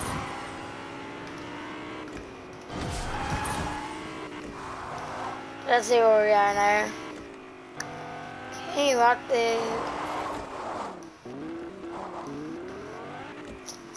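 A car in the Fortnite video game drives and revs, its engine rising and falling with a few tire squeals. Someone talks over it the whole time.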